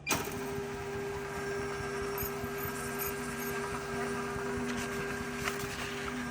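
A Focus Cobra 69s single-pass corrugated cardboard printer runs a nozzle check print, giving a steady mechanical hum with tonal whine and a faint rattling, continuous and close throughout.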